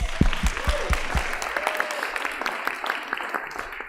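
Audience applause at a festival opening celebration, starting with a few distinct near claps and settling into a moderate, steady patter.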